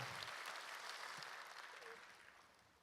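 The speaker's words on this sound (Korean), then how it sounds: "우리 귀한 말씀 주시는 목사님께 감사의 박수 드리도록 하겠습니다." A church congregation claps for the pastor at a Sunday service, a steady, fairly faint wash of applause that slowly fades away.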